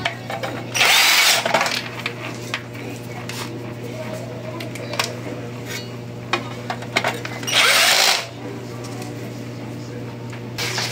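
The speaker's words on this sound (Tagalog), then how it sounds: "assemblein ko lang, kakabit ko lang mga tornilyo" Power drill driving screws while a Panasonic air conditioner is assembled, two loud whirring bursts spaced several seconds apart, with a steady hum and someone talking throughout.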